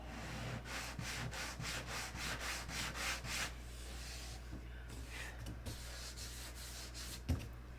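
Fine-grit sandpaper rubbed by hand over a finished surface in quick, even back-and-forth strokes, close and soft, then slowing into lighter, scattered scuffs with a brief knock near the end.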